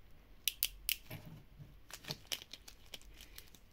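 Sharp snips and crackling breaks as 3D-printed plastic supports are cut and snapped away, close up and fairly quiet, in an irregular run of clicks.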